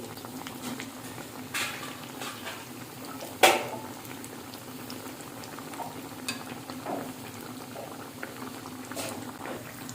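Bread kababs frying in hot oil after being flipped, giving a steady soft bubbling hiss with one brief sharper clatter, fairly quiet and close, with no voices.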